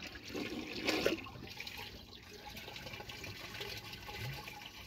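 Kohler toilet fitted with an Aquapiston canister flush valve, drawing a steady rushing, gurgling flow of draining water that stays fairly even, with a brief louder splash early on.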